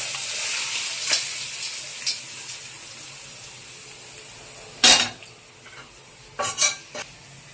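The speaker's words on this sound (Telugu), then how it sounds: "ఇప్పుడు ఈ తాలింపుని మనం పచ్చళ్ళలో అయితే కలుపుకోవాలి" A hot oil tempering is stirred into a Telugu broad bean pickle: a soft steady hiss runs throughout, broken by a few clanks and scrapes of a spoon against the container, with no talk.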